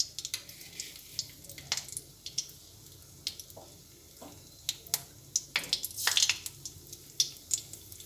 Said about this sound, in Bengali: আমি এর মধ্যে কিছুটা সাদা সর্ষে দিয়ে দিচ্ছি।